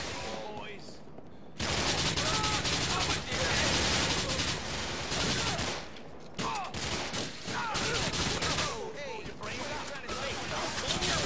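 Sustained, dense gunfire from the video game Grand Theft Auto IV, with loud overlapping volleys and a brief lull near the start before a nearly continuous barrage resumes.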